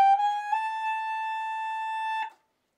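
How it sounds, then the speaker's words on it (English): Alto saxophone plays its highest note with all holes open: a single clear, thin, steady tone held for about two seconds at moderate volume, alone, ending abruptly. "open all the holes on the saxophone, we get the highest note. Sound a bit like this."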